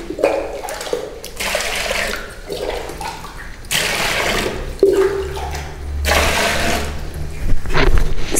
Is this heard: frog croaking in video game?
no